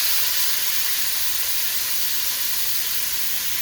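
Squash frying in hot oil in a kahari after onion and garlic, a bright continuous sizzling hiss, steady and close, with no voices.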